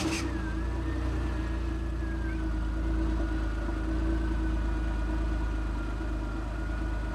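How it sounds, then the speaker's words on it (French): Twin-turbo car engine idling at a steady, even rumble, heard alone and close with no rev spikes. "Ouais, je veux juste entendre le moteur."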